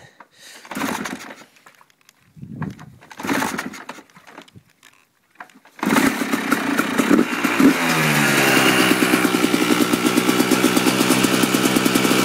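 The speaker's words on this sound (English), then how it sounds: "the bike has been started and warmed up prior. All tests will be done at idle and slightly above" A warmed-up Kawasaki KDX motorcycle engine starts after a few faint knocks and handling sounds, then settles into a steady, close idle with a slight rise in revs.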